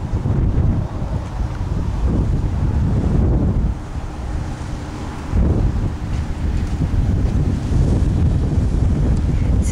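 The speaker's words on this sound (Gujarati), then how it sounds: "સરસ હવા આવે છે નહીં." Strong wind buffets the microphone at a rocky scenic ocean lookout in Hawaii, a loud, steady roar with gusty swells, mixed with the low wash of surf below.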